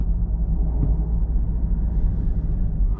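Artificial driving sound from a Mercedes-AMG EQE53 electric car, a steady low synthetic rumble that holds constant and fairly loud throughout with no variation.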